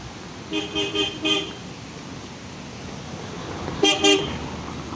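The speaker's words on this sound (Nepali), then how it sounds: "गाडी आयो गाडी।" A small vehicle crosses a bridge on a road toward New Delhi, sounding its horn in a quick series of three toots, then two more, over a constant rumble of engine and traffic noise.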